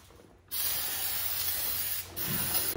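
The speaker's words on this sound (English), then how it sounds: "We just have some carb cleaner now. We're going to go through and clean all this up real good." Carb cleaner sprayed from an aerosol can onto a Ski-Doo snowmobile belt drive during installation, a loud, close, continuous hiss lasting about two seconds, a brief pause, then a second burst, with no talk.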